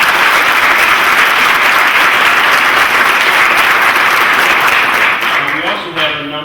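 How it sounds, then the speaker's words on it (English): Loud, dense applause from a graduation audience at a Navy Medical Laboratory Technician program ceremony, sustained steadily before thinning slightly at the end. "Give them a round of applause, please."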